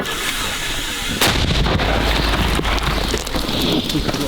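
A heavy mortar shot booms out on a winter front line over steady rain-like hiss and wind, followed by a rumbling outdoor ambience.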